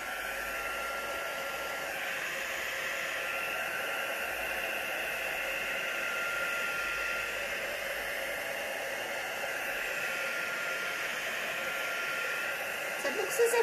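An embossing heat gun blows a steady, loud rush of air over resin geode coasters, continuous hiss and whir throughout with barely any change, a small knock at the very end.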